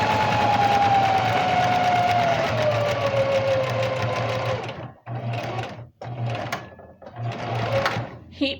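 A sewing machine stitches in a long, steady, close run with a rising whine, then stops and restarts in several shorter bursts, loud throughout.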